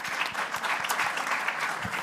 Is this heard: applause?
yes